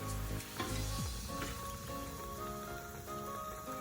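Gluten-free eggplant beignets crackle and sizzle steadily in hot oil, a dense, close frying hiss that runs throughout with occasional sharper pops and a low background hum.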